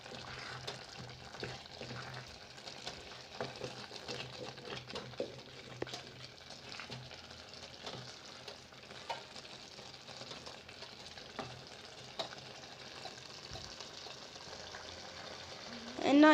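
Minced meat with berbere spice frying in a pan, a steady soft sizzle broken by frequent scrapes and taps of stirring, close and continuous throughout.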